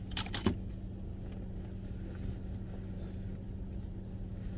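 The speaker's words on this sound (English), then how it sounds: "my keys. They just won't stay in there forever." Keys shaken out of a purse jingle in a quick metallic burst at the start, followed by a steady low rumble of background noise.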